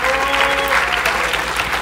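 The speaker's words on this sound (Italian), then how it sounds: "Un bello applauso per voi." Audience applauding in a meetup hall, a dense steady burst of clapping heard close and loud, with some voices mixed in.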